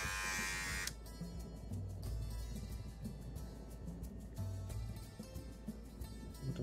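A Kemei KM-9020 cordless electric hair clipper buzzes steadily close by after switching on, a loud continuous motor drone with a slight wavering, and no voices.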